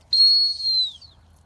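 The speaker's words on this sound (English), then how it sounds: "Now I'm incorporating that sit to the whistle." A single dog-training whistle blast used as the cue to sit during heelwork practice, about one second long, steady and clear, with a slight falling tail as it ends, then quiet.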